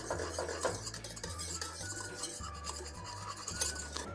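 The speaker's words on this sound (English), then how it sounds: "Whisk everything until everything incorporates." A whisk beats mousse mixture with added strawberry powder in a bowl, rapid rhythmic scraping strokes with faint metallic clinks against the bowl, close and steady, no speech.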